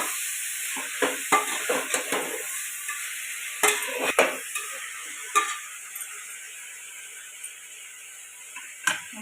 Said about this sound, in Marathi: बाकीच्या भाज्या परतून झाल्या ना की मग शेवटी टोमॅटो टाकते मी.